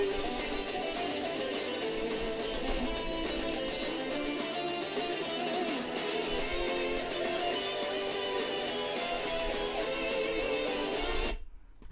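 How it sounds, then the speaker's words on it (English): Oath of Felghana arrangement of a video game soundtrack piece, dense layered instrumental music playing continuously at steady loudness, cutting off abruptly near the end. "So the Oath of Felghana version sounds like this."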